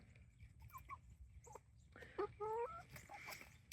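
A chicken on a Central Texas homestead gives a few short, tonal clucks over faint background noise. The calls are moderately quiet and come in a brief cluster.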